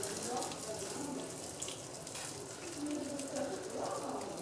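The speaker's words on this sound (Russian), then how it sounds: "когда воду наливаете, не наливайте прямо на рис, а наливайте вот так на этот... На шумовку." Water poured onto a skimmer over rice while cooking Uzbek plov, a steady splashing, gushing stream running continuously and close for the whole stretch.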